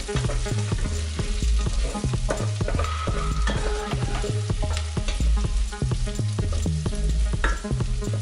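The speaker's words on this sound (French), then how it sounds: "vous laissez vos petits gnocchis revenir" Small gnocchi cook with garlic in a saucepan over low heat, giving a steady sizzle under repeated, rhythmic knocks of a utensil against the pan, close and fairly loud.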